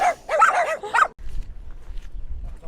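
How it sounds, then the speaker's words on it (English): Guard dogs on a stormy day in rural Spain bark in a quick burst of several yaps close by, then fall away into faint wind rumble. "Got some guard dogs here."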